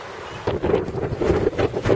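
Strong wind gusts at the Nu'uanu Pali lookout on Oahu buffet the microphone in uneven bursts, a rough, rushing roar that is close and loud throughout.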